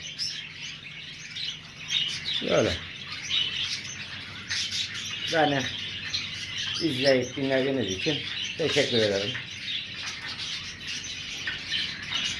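Budgerigars chirp and tweet in a breeding room, a continuous busy twittering with sharper calls rising now and then, while someone speaks over them.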